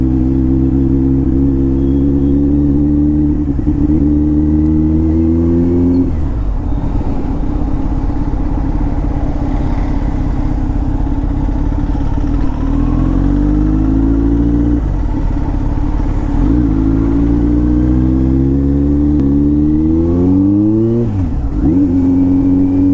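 A Kawasaki Z900 motorcycle revs and accelerates close by, its loud engine note rising and falling through several gear changes over traffic noise, with no talk.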